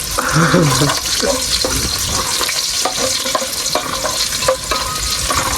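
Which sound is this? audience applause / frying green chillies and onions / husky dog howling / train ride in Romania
frying green chillies and onions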